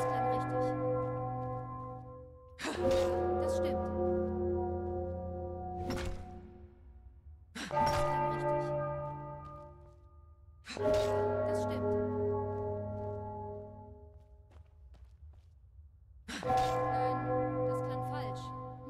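A large bell in the video game Enderal, struck with a bell hammer, rings out five times at slow, uneven intervals, each strike a bright clang with a long humming decay, alone without speech.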